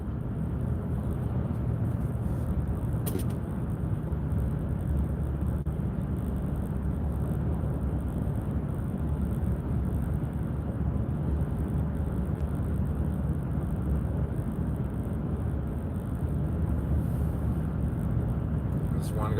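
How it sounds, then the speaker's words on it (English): Steady road noise from inside a moving car, a constant low rumble and tyre hiss with passing traffic, a person talking over it throughout. "this one guy's holding up all the traffic here"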